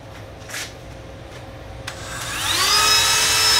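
A Dremel rotary tool spins up with a rising whine while cleaning inside the heat exchanger housing of a non-condensing Rinnai water heater, loud and steady after a quiet start.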